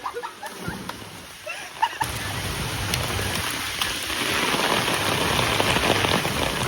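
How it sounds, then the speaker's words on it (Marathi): Heavy rain pours down near an open well, a loud, continuous hiss of drops splashing on surfaces that thickens and steadies after a few scattered knocks at the start. "खूप पाऊस आहे."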